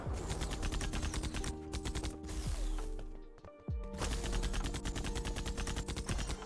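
Rapid automatic gunfire from a weapon fired from the hip in a shooting video game, crackling in dense, sustained bursts with a brief lull in the middle and mechanical clicks, no voices.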